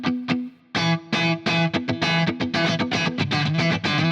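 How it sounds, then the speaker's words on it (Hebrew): An electric guitar with distortion is strummed on one note across several muted strings, producing a rhythmic pattern of choppy, percussive strokes with sharp muted chunks between notes, loud and alone. "יש פה צליל אחד, אבל הוא פורט על יותר מיתרים חסומים."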